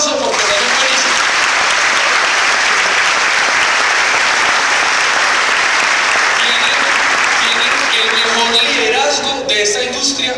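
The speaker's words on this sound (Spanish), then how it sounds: "Por favor, a todos esos líderes, denles un aplauso porque son felices." A large audience at a business leadership event breaks into loud, sustained applause and cheering, a dense wall of clapping that fills the whole stretch and thins slightly near the end.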